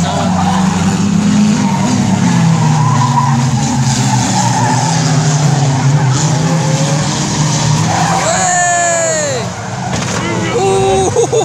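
A junior banger racing car skids and spins round a corner at a Barford oval, with loud, continuous engine roar and sharp tire squeals near the end, while crowd voices and talk run underneath.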